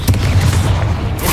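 Confringo fire-blast spell cast in the video game Hogwarts Legacy, a loud, deep booming burst with a rumbling low-end tail filling the short moment, no talking.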